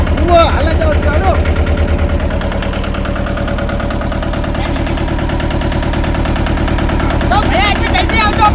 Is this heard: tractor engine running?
yes